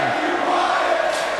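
A virtual arena crowd at a WWE 2K23 wrestling match cheers in a brief, steady roar of many voices with no break.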